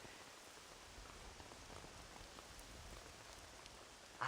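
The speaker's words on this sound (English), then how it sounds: "It's raining." Steady rain falling in the Western video game Red Dead Redemption, a continuous soft hiss of drops spread evenly throughout, faint and without speech.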